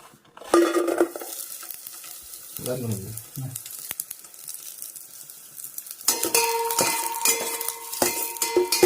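Cashews and raisins frying in ghee, a close crackling sizzle that comes in bursts, with a gap of quieter clinks and a stronger bright sizzle with pan scraping in the latter half.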